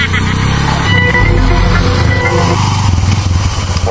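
A motorcycle engine runs steadily and close, a low rumbling hum carrying through the whole stretch beneath people talking.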